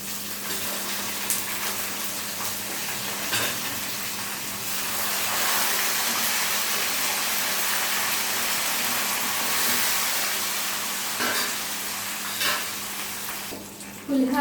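Cashews and curry leaves sizzle in hot oil as a tempering for temple-style pulihora, a steady, close frying hiss that swells in the middle and continues without pause.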